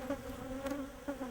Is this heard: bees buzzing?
yes